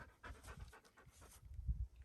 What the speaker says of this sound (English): She's a cute dog.